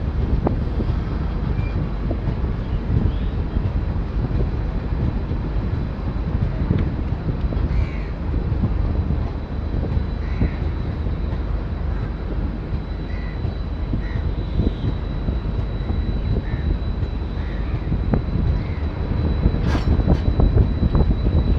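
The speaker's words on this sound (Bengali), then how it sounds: "train new Bongaigaon station enter করছে" A Kolkata–Guwahati Garib Rath train rolls into New Bongaigaon station after rain, with a steady, loud low rumble of wheels and carriage noise and some wind buffeting, unbroken for the whole stretch.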